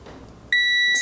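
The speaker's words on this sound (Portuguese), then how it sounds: "Se você colocar na escala de BIP, vir aqui sobre eles" Multimeter continuity test on inductors around a power-management circuit: a single sharp, steady electronic beep begins halfway through and holds to the end.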